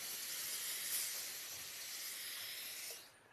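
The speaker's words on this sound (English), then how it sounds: "Look at that steam." Steam hisses from a 1.5 kg steam iron with a cork handle: a close, steady, airy hiss that holds for about three seconds, then cuts off quickly. No talk.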